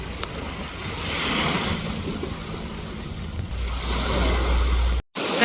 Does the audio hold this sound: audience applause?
no